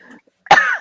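A single sharp cough bursts out close to the microphone after a moment of near silence, short and fairly loud.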